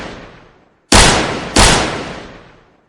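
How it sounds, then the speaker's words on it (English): Two loud, sharp gunshots roughly half a second apart, each followed by a long echoing decay that trails off slowly. "The sound of gunfire echoed around the place."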